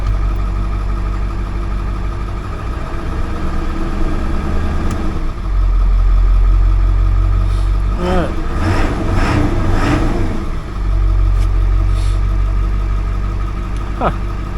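A Ford 7.3L Powerstroke diesel engine under no-start troubleshooting runs steadily with a loud, continuous low rumble close by, while someone speaks briefly over it midway.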